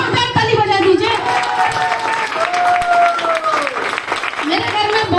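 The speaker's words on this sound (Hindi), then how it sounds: "मेरी रत्नमाला मैडम के लिए जोरदार ताली बजा दीजिए" An audience claps loudly and steadily for Ratnamala madam at a talk event, with cheering and voices mixed into the dense applause throughout.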